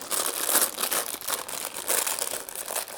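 Plastic bags from a Hogwarts Castle building kit crinkle and rustle steadily at close range, a continuous crisp crackling with bursts of sharper crinkles, no talking.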